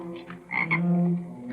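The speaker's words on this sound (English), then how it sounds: "Goddamn frogs." A frog croaks loudly and close by, a single drawn-out, throaty call with a buzzing harmonic quality, heard alone without talk.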